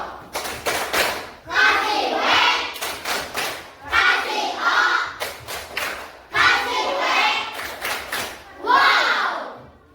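A group of schoolchildren in a coding and computational thinking lesson do a rhythmic clapping chant: bursts of loud, close hand claps and thumps alternate with children's voices chanting together, repeating in about four rounds.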